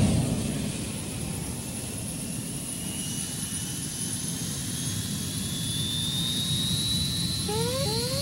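Space shuttle engines igniting at liftoff in a Sega video game simulation, a continuous roaring rumble with a high rising whine that climbs steadily, then short electronic tones near the end.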